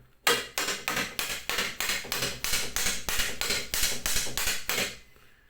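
A hammer strikes wood over and over for a DIY electric candle decoration, about a dozen loud, evenly spaced blows in steady rhythm, close up, before the striking stops.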